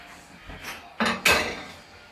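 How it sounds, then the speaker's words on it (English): Sausages tossed in a pan with lemon, garlic and coriander: a few sharp metallic clanks and scrapes of a utensil against the pan, two louder knocks close together, close and with no talk. "just mix everything up so everything gets a nice coating of lemon, of garlic, of coriander and sausage juices"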